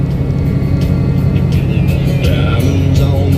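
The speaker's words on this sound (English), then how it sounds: "Just a little bit of night driving here." Over-the-road truck cruising on a highway at night, a steady loud engine and road rumble from inside the cab with tire noise, no talking.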